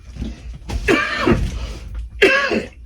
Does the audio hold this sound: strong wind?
no